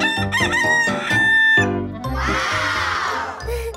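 A rooster crows loudly and close by, a staccato series of clucks leading into a long strained cock-a-doodle-doo call, then a brief final cluck.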